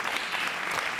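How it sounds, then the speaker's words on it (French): An audience at a public forum in Avignon applauds, a dense and steady burst of clapping heard close throughout. "on peut l'applaudir"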